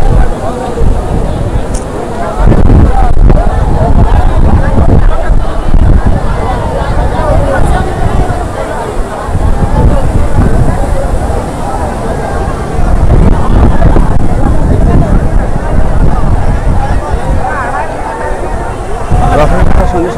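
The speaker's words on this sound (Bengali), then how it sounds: "আজকে প্রচণ্ড হাওয়া, সেই সঙ্গে সমুদ্রের ঢেউ" Strong wind and rough sea waves at Puri beach on a crowded Rath Yatra day, a loud, continuous roar with heavy wind buffeting on the microphone and indistinct crowd babble underneath.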